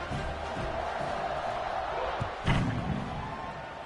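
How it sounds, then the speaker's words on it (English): A packed stadium crowd buzzes in a college football video game, a broad steady roar with a sudden swell, running under a commentator's voice. "this crowd is buzzing after that last score"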